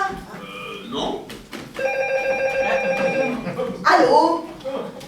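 A telephone bell rings in a steady trilling burst over about a second and a half, close by, while people talk around it.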